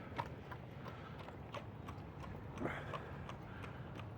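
Horse hooves clip-clopping in a steady walking rhythm during a ride through an old mining town's English cemetery, faint and fairly distant.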